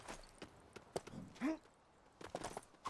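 Horse hooves clip-clopping in the Lego The Hobbit video game, a few soft irregular hoof steps at a moderate distance, fairly quiet, with brief game sound effects between them.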